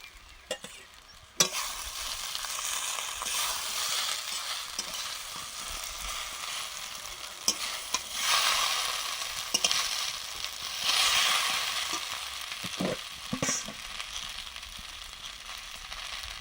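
Mustard paste fries in a pan with a steady, loud sizzle while a spatula stirs and scrapes it, producing occasional sharp clicks and knocks over the continuous hiss; no voices.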